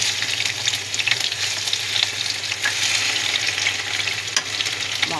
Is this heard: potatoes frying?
yes